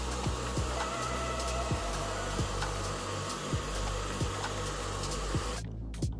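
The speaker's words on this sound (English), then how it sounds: "How to fix paints on the fabrics which you can't iron using hairdryer." Hair dryer blowing steadily on fabric paint on a swimsuit, a loud continuous whooshing airflow with a motor hum, running alone for about six seconds before cutting off abruptly near the end.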